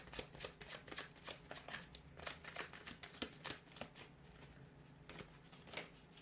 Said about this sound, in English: We'll go ahead and give the cards a shuffle.